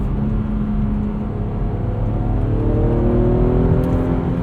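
A 2008 BMW Z4 M Coupe engine revs steadily from the cabin while driving, a loud continuous drone with harmonic tones rising through the gears.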